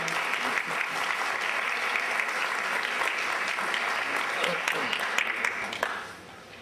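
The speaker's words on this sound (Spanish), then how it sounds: "Un fuerte aplauso para ella." Applause at a school ceremony honoring the school director, a hall full of clapping that stays steady and lively, then thins out and fades near the end.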